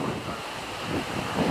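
Ocean surf rolls and breaks at a surfing contest, a broad steady wash of water mixed with wind noise on the microphone, swelling slightly toward the end.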